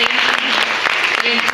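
An audience at a number crunchers quiz championship breaks into dense, close applause, steady clapping that fills the short moment while a voice sounds over it.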